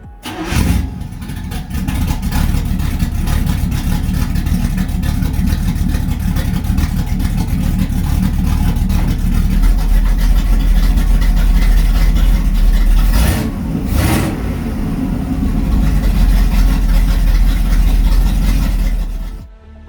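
A small-block Chevrolet V8 with no exhaust rumbles steadily at close range, a deep, loud, continuous idle with a brief dip near the middle, and nobody speaking.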